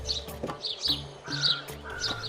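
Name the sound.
birds calling from a tree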